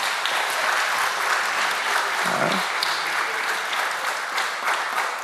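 Audience at a geology show in Bonn clapping to vote for a quiz answer, a steady, even wash of applause from a large crowd, faintly distant and unbroken.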